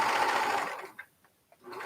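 A sewing machine runs in a fast, steady buzzing burst as it stitches layers of fabric, then stops, leaving a few faint clicks before the motor starts again briefly.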